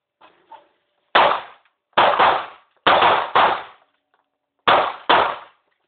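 Handgun fire at a shooting range: a couple of faint clicks, then six loud close-up cracks fired as double taps in three pairs, each with a brief fading tail and quiet gaps between the pairs.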